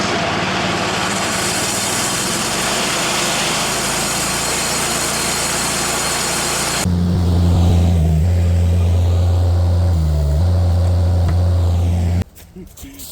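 A sawmill engine runs loud and steady, then throttles up into a deeper, heavier drone with strong low hum that wavers slightly before cutting off abruptly near the end.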